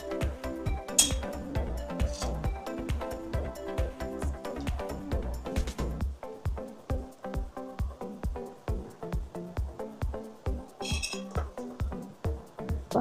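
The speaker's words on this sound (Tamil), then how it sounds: "இப்போ நம்ம மீன் எடுத்து போட்டுடலாம்." Fish going into simmering gravy in a clay pot, with a busy run of clinks and knocks of utensils against the pot, irregular taps and scrapes close up, fading into sparser clinks later, no voices.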